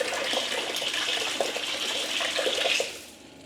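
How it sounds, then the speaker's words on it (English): A camping water pump runs steadily with a rushing, faucet-like water flow at close range, then cuts off near the end and leaves only a faint residual hiss. "you hear the water pump shut off there"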